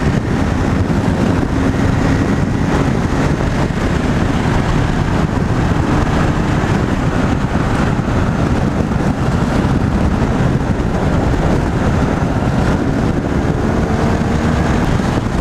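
Steady, loud wind rush over the helmet while riding a 2016 BMW R1200R motorcycle with a small windshield, a dense roar covering the whole stretch with engine drone underneath and no talking.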